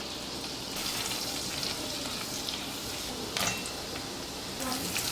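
Garlic, ginger, onions, carrots and beetroot sizzle in butter in a pot with a bay leaf and whole pepper, a steady close frying hiss marked by occasional stirring scrapes and bursts.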